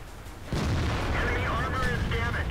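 A single heavy cannon blast from a T110E4 tank destroyer in a tank video game, a sudden loud boom followed by a rumbling tail, with game chatter and tones behind it.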